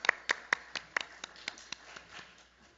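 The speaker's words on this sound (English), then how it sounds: "Let's give her a round of applause" Sparse clapping from a small audience at a policy panel welcomes a speaker, a handful of distinct claps near the room at first, then thinning into softer scattered pats.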